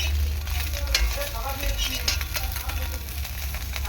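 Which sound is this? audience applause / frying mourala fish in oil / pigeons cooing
frying mourala fish in oil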